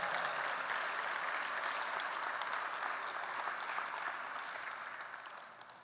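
Steady, full applause for four Roanoke College student athletes at an athletics gathering fills the room and slowly tapers off toward the end, with no voices.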